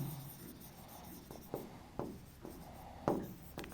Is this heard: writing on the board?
yes